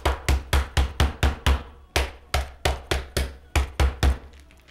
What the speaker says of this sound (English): We pound it out to tenderize it.